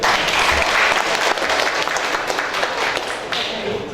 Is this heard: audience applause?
yes